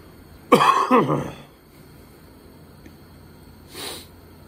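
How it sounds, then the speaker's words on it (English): A person coughs two or three times in a quick burst, close and harsh, followed by a quieter single cough after a pause. "I developed more of a cough like a lot of other people"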